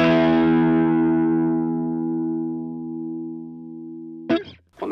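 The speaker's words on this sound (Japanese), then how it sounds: "メロディーを弾くのにこう伸びる音が欲しいという時にチューブスクリーマーをよく踏まれることが多いです" An electric guitar with single-coil pickups plays a sustained overdriven note or chord through a Tube Screamer pedal, ringing and slowly decaying for about four seconds. A short burst of other sound follows at the end.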